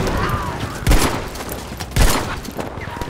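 Shotgun fire in Battlefield 5 on the Marita infantry map: two heavy, close blasts about a second apart stand out over a steady din of distant battle gunfire.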